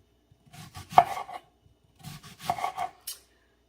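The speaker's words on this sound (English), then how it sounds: "now we're ready to start dicing up the rest of our ingredients for the guacamole" A knife dicing red onion on a cutting board, two short bursts of quick chopping and scraping strokes separated by a pause, close and clear with no voices.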